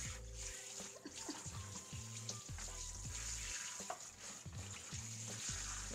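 A whole duck is washed with vinegar and water, with a steady splashing rush of running water and small irregular clatters and knocks mixed in, close and continuous throughout.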